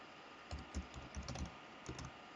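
Keys on a computer keyboard are tapped quietly as a password is typed, a short run of about eight soft, close clicks in an otherwise quiet room.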